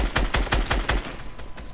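Rapid gunfire in a video game, about six loud, close shots in quick succession, then softer, more scattered firing trailing off with no talk.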